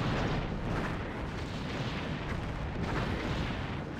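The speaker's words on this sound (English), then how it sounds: "Sir, the Cardassian outpost has been destroyed." Torpedo fire and an exploding Cardassian outpost in Star Trek Bridge Commander make a dense, continuous rumble of booming blasts that stays loud and steady from start to finish, with no voices over it.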